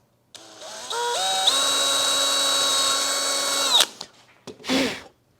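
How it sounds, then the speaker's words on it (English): A Forstner bit with a center pilot point bores a hole in wood for a simple display shelf, a steady whining drill tone with rising pitch that runs about three seconds and stops, followed by a few short bumps and clatters. "So I'll use a center dimple, that the Forstner bit, to center the hole, because this is a pilot bit, right in the middle."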